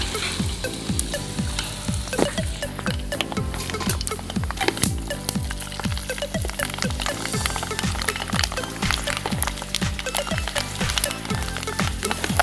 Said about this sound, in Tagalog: kapag alam mo na mainit na yung mantika, pwede nang ilagay ang mani